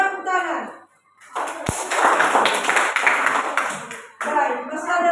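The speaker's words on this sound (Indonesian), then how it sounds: "Jadi untuk kelompok 1 memberikan tepuk tangan." A classroom group bursts into brief, loud clapping with a sharp slap at its start, sandwiched between children's and teacher's speech before and after.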